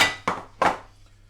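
Plates and utensils clink as a roast dinner is dished up, two sharp, close knocks of crockery about a third of a second apart, each ringing briefly before fading into quiet room noise.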